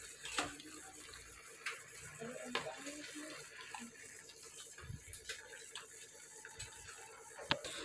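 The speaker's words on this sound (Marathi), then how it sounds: "आता हे बघा पाण्याला उकळी आली आहे।" A pot of sweet water for pani puri, thickened with cornflour, boiling on a gas stove, giving off a steady close bubbling and gurgling hiss with scattered sharp pops and clicks, heard alone.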